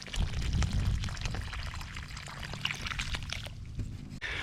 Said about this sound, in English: Let's throw some water on these